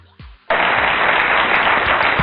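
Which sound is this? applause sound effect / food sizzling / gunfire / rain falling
applause sound effect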